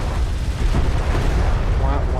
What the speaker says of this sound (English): And his carrier is going to be destroyed.